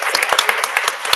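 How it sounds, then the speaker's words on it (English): Audience at a city council meeting claps in a short burst of scattered, close handclaps, individual claps standing out sharply rather than merging into a wash. "we can give him a round of applause"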